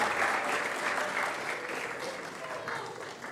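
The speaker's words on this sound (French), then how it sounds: "On applaudit encore Roméo" Audience applause for Roméo at a live French event, a steady dense wash of clapping that holds for the whole stretch without pause.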